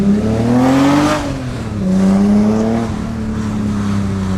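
A BMW E30 car engine with a new exhaust drones loudly from inside the cabin, revving up through the gears with a deep, raspy exhaust note and brief dips between shifts.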